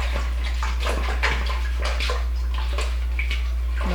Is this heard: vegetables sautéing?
no